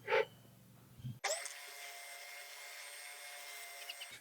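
A power sander starts up abruptly after a brief voice, then whines steadily with a high-pitched motor drone while taking the poly finish off a Squier Bullet Stratocaster body, loud and close.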